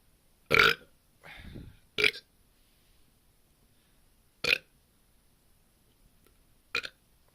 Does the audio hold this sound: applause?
no